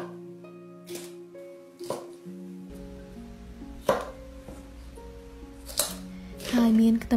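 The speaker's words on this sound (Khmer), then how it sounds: "ខ្ញុំហាន់វាជារាងជ្រុងទូចទូច" Raw chicken is chopped into small cubes with a knife, a few sparse, sharp thuds on a board spaced a second or two apart, under soft background music and a voice talking.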